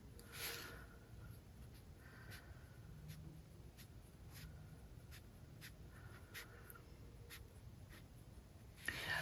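Steel-nib fountain pen writing on the test page of a planner's paper, a soft continuous scratch broken by regular light tapping strokes, close and quiet, with no talking.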